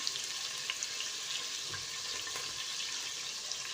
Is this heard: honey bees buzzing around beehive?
no